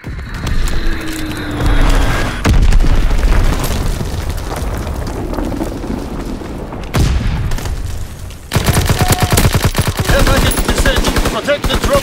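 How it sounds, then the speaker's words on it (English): Enemy bomb explosions and gunfire in a war shooter video game: heavy booms and blasts, then a long stretch of rapid, loud automatic fire. Voices call out faintly under the din. "Enemy bomb incoming"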